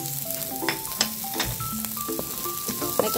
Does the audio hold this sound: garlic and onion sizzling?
yes